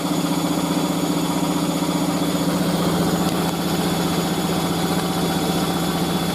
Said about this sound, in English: Vibrating like mad.